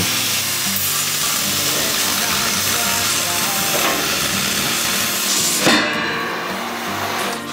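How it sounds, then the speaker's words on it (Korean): Steel H-beams are cut for building construction, making a steady, loud, hissing grind of metal that runs almost unbroken and shows a few sharper knocks along the way. "시공을 위해 보빔 재단 작업을 제일 먼저 진행해주고"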